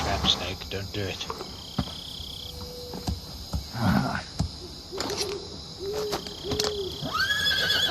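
In Metal Gear Solid 3, a horse gives brief neighs amid a dense night chorus of crickets, insects and hooting owls, with some faint game sounds mixed in.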